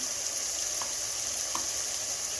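Garlic fries in a pan with spices for githeri, a maize and bean dish, making a soft, steady sizzling hiss with a couple of faint utensil clicks.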